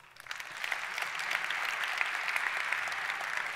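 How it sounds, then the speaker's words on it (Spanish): Audience applause at a tech conference talk fills the room steadily after a quick swell, a dense patter of many hands held at an even level throughout. "Un aplauso por eso."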